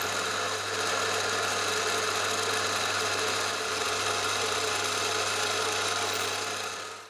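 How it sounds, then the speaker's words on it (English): A drill whirs steadily through metal, boring a 4mm hole, with a continuous, slightly gritty grinding tone, close by and unbroken, easing off at the very end. "I'm drilling 4mm."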